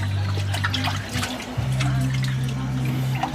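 Running water rinses a cooking pot, a steady splashing flow with a low hum underneath, close by and continuous.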